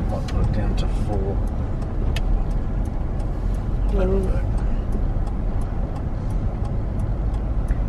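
A car on a test drive heading toward the highway, with steady engine and road noise running throughout and a person speaking briefly over it.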